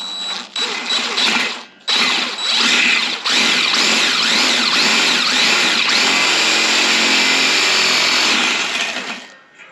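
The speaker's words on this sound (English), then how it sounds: "So I need the self-drilling screw to hit the hole saw." A power drill drives a self-drilling screw into the slot of a metal hole saw, starting with short stop-start bursts, then a long loud whirring run with rising and falling pitch before winding down, close and alone.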